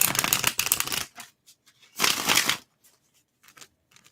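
A tarot deck with unusually cut cardstock is riffled in two dense, crisp bursts of card noise, each followed by scattered soft taps and clicks as the cards settle, close and with no talk.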